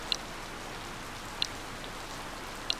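Steady rain falling in Harvest Moon Light of Hope, a soft continuous hiss with three sharp, evenly spaced clicks cutting through it.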